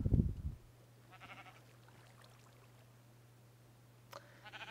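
Sheep in the horror video game sAw give a few faint bleats over a quiet steady hum, with a brief thump at the start.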